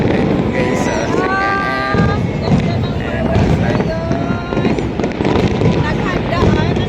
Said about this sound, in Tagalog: So, napakaganda ng fireworks.